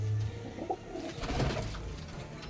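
A Matraj pigeon coos in low, throaty pulses close by, a short soft call over faint background noise with no talking.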